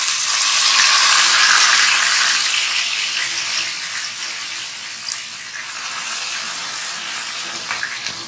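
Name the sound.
bottle gourd being fried and stirred in a pan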